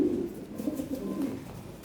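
European Lahori pigeons on a farm give a few low, rolling coos close by, separate throaty pulses over a quiet background.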